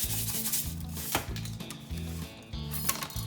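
Salt is rubbed into a pork pernil by hand, producing close, rhythmic rubbing and scrubbing strokes with soft thuds against the meat and board, steady and unaccompanied by talk.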